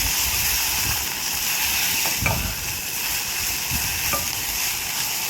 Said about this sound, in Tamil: அப்புறம் வந்து திருப்பி நல்லா சாட்டே பண்ணிவிட்டு